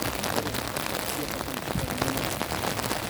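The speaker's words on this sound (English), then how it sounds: "Rain is raining" Steady rain pattering on a surface, a dense broadband hiss that holds evenly throughout with faint speech-like murmurs underneath.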